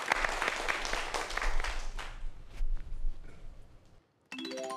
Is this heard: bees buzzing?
no